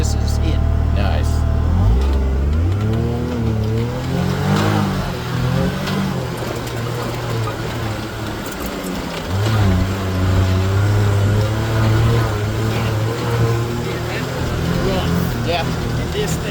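A Can-Am Maverick R Max off-road vehicle engine in Moab revs and rises in pitch over a loud, continuous drone, close and dominant, with people talking over it.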